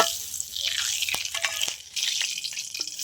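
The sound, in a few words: ghee sizzling with dried chili, cardamom, cinnamon, cloves, nutmeg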